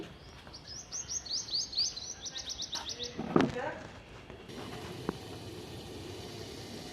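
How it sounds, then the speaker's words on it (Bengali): A parakeet calls in a rapid series of high chirps, fairly close, then falls quiet, with a brief thud and a short murmur of voice partway through. "আস্তে আস্তে টিয়া পাখি আছে"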